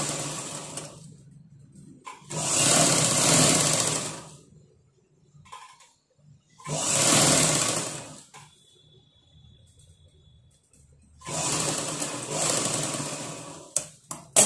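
Sewing machine stitching a blouse sleeve in three loud, steady whirring runs of a few seconds each, separated by quiet pauses with faint handling noises.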